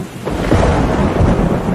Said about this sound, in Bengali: উফ, কি বাজ পড়া শব্দ!